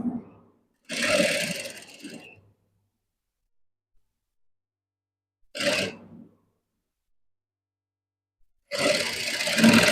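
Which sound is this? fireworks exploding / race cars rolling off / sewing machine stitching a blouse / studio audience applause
sewing machine stitching a blouse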